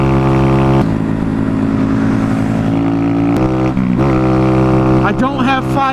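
A loud Honda Grom motorcycle engine roars close while riding, its steady drone shifting pitch as the rider revs and changes throttle, ending in quicker rising and falling revs.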